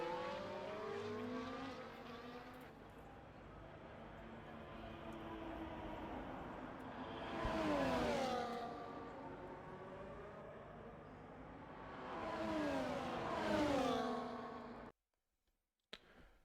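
Formula-style race cars, a Red Bull and a McLaren, scream past in a racing video game. Two loud engine swells rise and fall as the cars pass over a steady engine drone, then the sound cuts out abruptly near the end.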